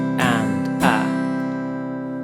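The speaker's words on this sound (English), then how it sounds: "we do an up, down, up strum with our strumming hand" A guitar chord strummed in quick strokes, the strums close together, then the chord rings out and slowly fades.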